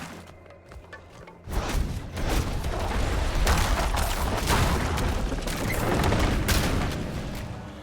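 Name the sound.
explosions in Diablo IV video game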